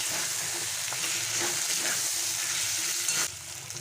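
Green peas are stirred into khichuri frying in a wok, giving a constant close sizzle with scraping stir strokes that drops off sharply near the end.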